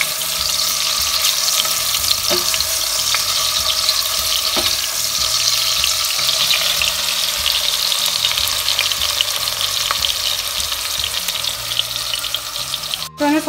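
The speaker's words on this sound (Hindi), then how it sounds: "अब इन्हें 3 से 4 मिनट तक सॉटे कर लेते हैं।" Mushrooms sautéing in oil in a pan over medium-high heat for a restaurant-style matar mushroom sabji, a steady close sizzle and frying crackle running throughout with occasional stirring clicks.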